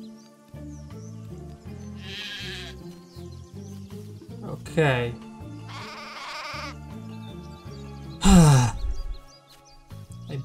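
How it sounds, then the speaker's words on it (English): Sheep bleating in the video game Craft The World, a few loud, wavering bleats over looping game music, with someone speaking briefly. "Whoa, how many sheep?"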